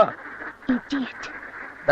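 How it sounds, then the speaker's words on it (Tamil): Several loud, nasal duck quacks close by, spaced irregularly with short gaps between them, against a steady background hum. "ஏய் வாத்து, ஓரமா போ."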